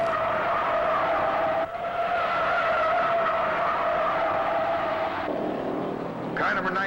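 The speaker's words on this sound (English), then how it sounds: "Car number 97, Red Farmer, careened off the wall down the main straight right in the path of Buddy Baker's Dodge Charger." A 1968 stock car at a superspeedway race skidding into the wall, a sustained high tire screech and engine roar over crowd noise, cutting off abruptly near the end before a fresh squeal.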